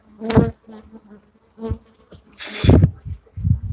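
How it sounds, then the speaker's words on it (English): Africanized guard bees buzz close around a hand in uneven bursts, loud droning passes rising and fading as individual insects fly in and away. "Got a bee kind of buzzing around my hand here,"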